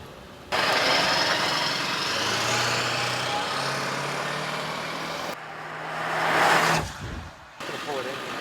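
A 2000 Ford F350 7.3 turbo diesel pickup engine drones nearby with a low, rising hum as it moves, ending in a brief louder surge and a few knocks.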